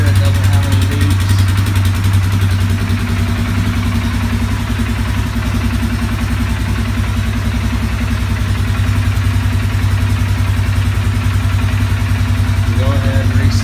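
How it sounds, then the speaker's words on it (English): A Polaris Sportsman 200 ATV engine idles steadily after a service, a loud, even mechanical drone held close and unbroken throughout. "go ahead and start it and let it run for a little bit"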